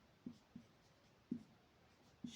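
Chalk or marker tapping and scratching on a classroom board, four short, faint strokes spaced unevenly in an otherwise quiet room.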